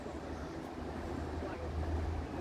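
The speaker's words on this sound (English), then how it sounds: "it's rather unnerving, almost scary how fast the water is flowing at the moment" The flooded River Severn at Ironbridge rushing past fast, a continuous broad roar of churning water with wind buffeting the microphone, and no voices.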